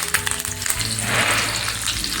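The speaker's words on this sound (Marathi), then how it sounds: "त्याच्यामध्ये टाकायचे आपल्याला ही हिरवी मिरची आणि टाकायचा आपल्याला हा कढीपत्ता." Green chilies and curry leaves hit hot oil for a tempering while cooking curd rice, giving a steady, close frying sizzle and hiss throughout with no voices.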